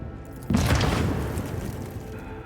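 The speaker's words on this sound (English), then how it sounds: "A frag grenade explosion cuts off the rest of the sergeant's words." A frag grenade detonates in the Rogue Trader video game, a sudden loud boom at half a second with a broad blast of noise that rumbles and slowly decays over the next two seconds.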